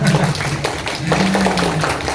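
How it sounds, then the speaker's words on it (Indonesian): A group of children visiting a disaster-management training center claps hands in welcome, with scattered, uneven claps close by over a low hum and faint voices in the room. "Selamat datang semuanya, tepuk tangan semuanya"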